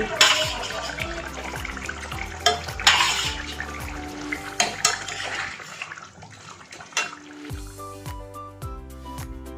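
Bhola fish goes into a simmering potato and onion curry in a pot and is stirred, with scraping and clinking of a utensil against the pot in bursts over a steady background of music.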